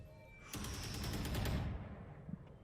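Vandal rifle fire in Valorant at a pro esports match, a rapid burst of gunshots lasting about a second, loud and close, then fading into quiet game ambience.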